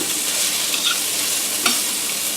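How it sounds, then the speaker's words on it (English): Bell peppers, onions and garlic sizzle steadily in a hot pan while being sautéed for a homemade pot pie, a continuous close crackling hiss with a couple of brief stirring scrapes. "If you can hear that sizzling."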